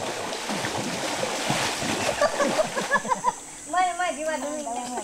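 River water splashes as Amazon women dilute barbasco poison in the current, with repeated close splashes and churning water and other sounds layered on top.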